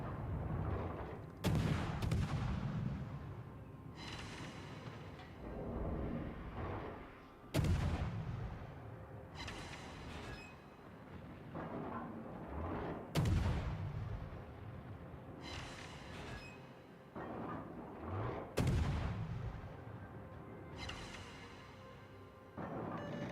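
Heavy naval gunfire from warships in World of Warships: five or six loud, booming salvos land every few seconds across the stretch, each a sharp crack that rolls off into a long rumbling tail, with no talking over it.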